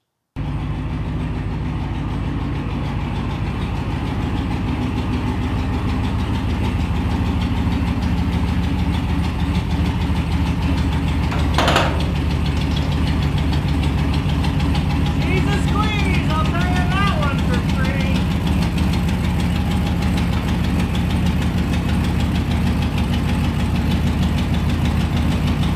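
Car engine idling steadily while backing into a garage, a low, constant rumble close by with a brief louder clunk midway and a person talking over it.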